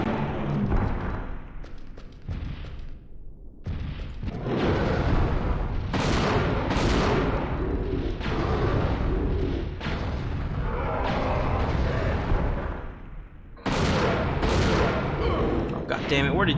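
Gunfire from regular guns in the survival horror game Dino Crisis, loud rapid bursts of shots repeating across the stretch with brief gaps, while someone talks over it.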